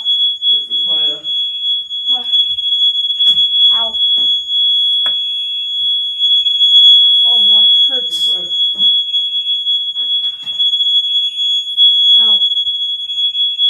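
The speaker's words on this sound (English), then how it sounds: "you got the fire alarm going off" A hotel fire alarm at a waterpark lodge sounds a sustained, piercing high-pitched tone throughout, steady and loud, while people speak briefly over it.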